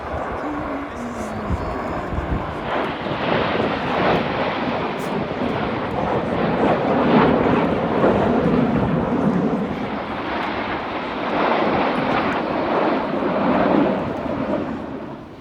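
A Eurofighter Typhoon jet roars past at a festival-of-speed event, a loud, sustained thunderous engine sweep building and fading across about fifteen seconds, with some crowd noise underneath.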